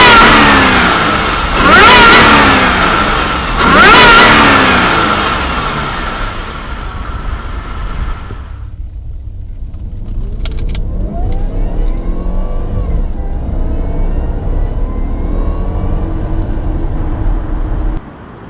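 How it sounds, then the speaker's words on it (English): A 390bhp supercharged Jaguar XJR X350 revs hard and loud, rising in pitch twice through gear changes, then drops away and settles into a steadier drone with a thin supercharger whine above it. "it changes gears, you can hear the supercharger whine"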